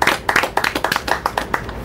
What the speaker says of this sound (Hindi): चलो ज़ोरदार तालियां हम सबके लिए।